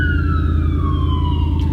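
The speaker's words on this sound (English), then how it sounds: "That ambulance is for me." A wailing ambulance siren sweeps steadily downward in pitch over a constant low rumble of traffic and engine noise, loud and continuous without a break.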